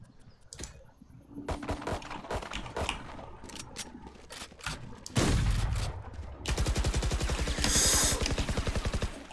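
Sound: shotgun fire in video game Valorant

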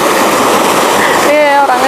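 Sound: swift rushing river water

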